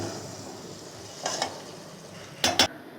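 Spiced arvi sabzi with freshly added lemon juice is stirred in a pan under a faint sizzle, broken by a few quick scrapes of a spoon against the pan.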